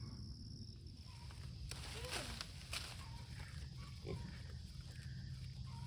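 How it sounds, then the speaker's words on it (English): A goat feeds on leaves from a downed branch in a green pasture after a destructive storm, with faint grunting, rustling and chewing over a steady outdoor background of insect chirps. "That's a happy goat."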